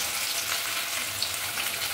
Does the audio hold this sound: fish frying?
yes